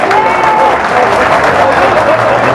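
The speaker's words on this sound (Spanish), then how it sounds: "Un aplauso al presidente." A crowd applauds the president of the Dominican Republic at an open town council meeting, a steady dense wash of clapping that runs the whole time with a voice faintly underneath.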